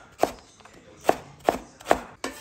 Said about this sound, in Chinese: 先给它切成细丝，再给它切成红椒丁